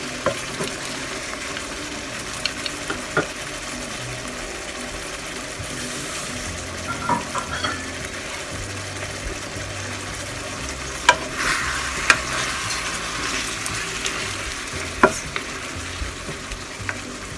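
Frog pieces and bitter melon sautéing in a pan for Filipino ginisang palaka give a steady close sizzle, broken by irregular scraping and clacking stirring strokes, with no voices.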